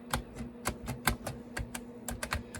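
Keys clatter on the keyboard of a Compaq Portable computer, a quick irregular run of close, crisp taps over a faint steady hum, with no one speaking.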